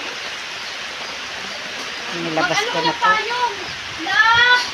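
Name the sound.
rain falling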